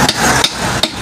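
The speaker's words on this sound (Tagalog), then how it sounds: "Ilang palo pa ng martilyo." Three sharp metallic hammer blows strike a boat propeller part at a roughly even pace, loud and close with no talk.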